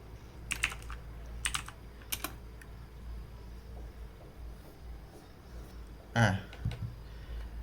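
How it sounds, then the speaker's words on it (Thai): Keystrokes on a computer keyboard as the ADB devices command is typed at a Windows command prompt: a few short bursts of clicks early on, then a louder cluster near the end, heard alone over quiet room hum. "ก็ให้พิมพ์ไปว่า ADB device"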